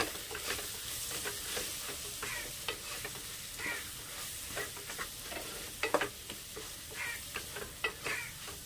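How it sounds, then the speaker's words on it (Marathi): Pulao masala sautés in a pan for a field bean pulao, with a continuous soft sizzle and frequent light scraping and stirring taps from a spoon. "हा पुलाव मसाला आहे तो घालून घेतलाय आणि आता हे चांगलं असं परतून घ्यायचं"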